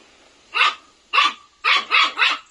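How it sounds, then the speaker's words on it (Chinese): Dogs bark five times in sharp, loud bursts: two single barks, then a quick run of three, all close and clear with no talking. "这些狗叫它也害怕。"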